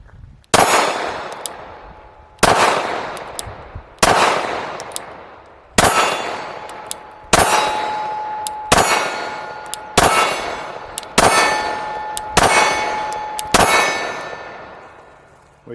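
Nine sharp, loud gunshots from a Glock Model 28 .380 ACP handgun, fired one at a time at a slow, fairly even pace, each crack followed by a ringing decay before the next.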